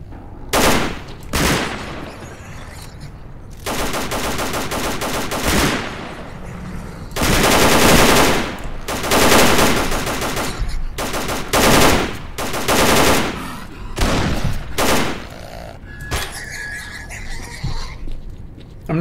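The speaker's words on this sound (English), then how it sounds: "Damn, that is a loud gun." Loud bursts of rapid automatic gunfire from the video game S.T.A.L.K.E.R. Call of Pripyat, several heavy volleys spread across the stretch with short pauses between them, close and dominant.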